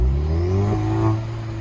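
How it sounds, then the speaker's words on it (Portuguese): A Volkswagen Golf GTI engine held at a steady, deep rumbling rev, close and loud, with a slight rise in pitch midway and no voices. "O ronco do carro ficou"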